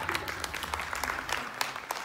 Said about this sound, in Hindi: प्लीज अपने लिए ताली बजा दीजिए एक बार